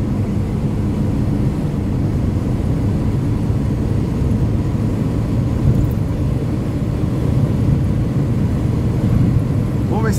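A Ford Del Rey car engine drones steadily from inside the car while driving, a low continuous rumble that holds throughout with no clear changes in pace.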